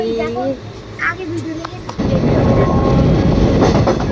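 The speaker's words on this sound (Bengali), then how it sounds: "সুন্দর ট্রেনটা ওই যে গুহার মধ্যে যাচ্ছে" A passenger train rumbles toward a hillside tunnel, the roar of wheels and carriages swelling loudly and steadily in the second half after quieter, voiced moments earlier.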